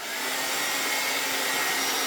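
An air dryer blows steadily to dry paint on a wood carving, a constant broadband whoosh at close range, moderately loud and alone.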